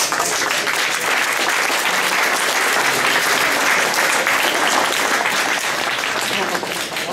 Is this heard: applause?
yes